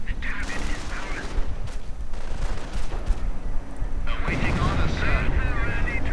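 A sector artillery barrage in a 1v1 strategy video game match: dense, loud overlapping blasts and gunfire-like bursts that run continuously and swell again near the end, while a commentator talks over the din.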